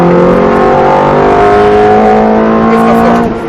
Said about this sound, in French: Et là, tu réaccélères.